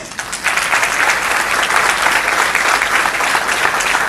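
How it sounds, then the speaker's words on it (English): Loud, dense audience applause at a Toastmasters club's 100th milestone meeting, starting sparse and swelling within half a second into sustained clapping from a crowd. "I am sure they deserve a big round of applause"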